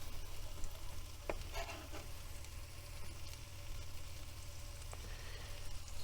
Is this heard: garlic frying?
yes